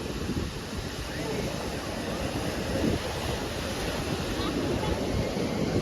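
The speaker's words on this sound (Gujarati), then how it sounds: "અહીંયા જો મિત્રો કેવા કેવા મોજા આવે છે" Sea waves surge and wash at Hazira point near Dumas beach, a continuous broad roar of surf close by, mixed with gusty wind buffeting the microphone.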